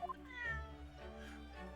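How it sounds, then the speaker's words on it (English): A plaintive cat meow plays in The Great Ace Attorney Chronicles video game after a short chirp, then trails into a softer second cry over a steady low hum of background music. "Is that the... That's the cat?"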